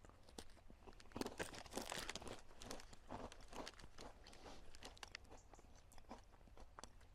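Crunchy cinnamon fruit biscuits from a Dutch Arctic operational ration being bitten and chewed up close, a steady run of quiet, crisp crunches with no talking.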